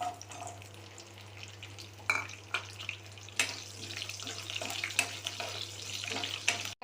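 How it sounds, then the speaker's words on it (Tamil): Fenugreek, mustard seeds, cumin, pepper and curry leaves fry in hot oil, giving a quiet sizzle with sharp crackles and spattering pops that build toward the end, over a low steady hum. "வெந்தயம், கடுகு, சீரகம், மிளகு, கருவேப்பிலை போட்டு வச்சுட்டு கிண்டிக்கலாம்."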